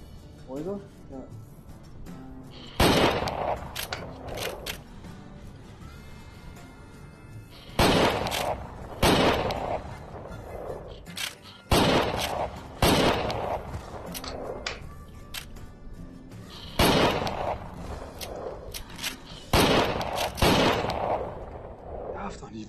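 Gunfire in the Private Property VR game on a Pico 4 headset, set in a Wild West town: several loud, sharp shots come in irregular bursts, with a voice talking between them.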